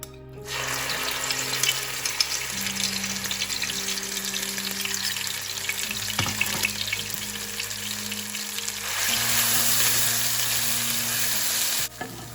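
Onions sautéing in oil for Chettinad chicken give a dense, steady sizzle close by, with a low background hum and occasional stirring scrapes, swelling louder near the end before cutting off.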